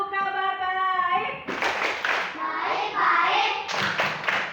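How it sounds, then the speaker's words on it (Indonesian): A teacher leads a class in a rhythmic clapping chant: a sung call first, then pupils clap in patterned bursts while chanting together, loud and close in a classroom. "Tepuk kabar baik."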